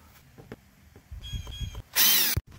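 A power drill bores a 1.25 inch hole in wood for a post light's underground wiring, light handling clicks and a short low grinding, then a loud high whir burst that stops abruptly.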